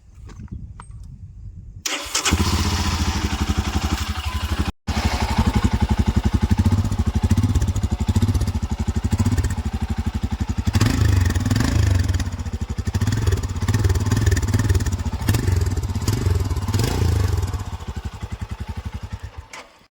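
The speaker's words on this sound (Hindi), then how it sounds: "गाड़ी का इंजन का साउंड" A Royal Enfield Scram 411 motorcycle engine starts up and keeps running close by, a loud steady idle with a rhythmic throb and brief revs.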